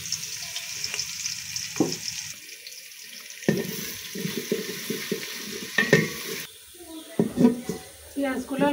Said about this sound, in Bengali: তেলের মধ্যে 1 কাপ পরিমাণ পেঁয়াজ দিয়ে দিব।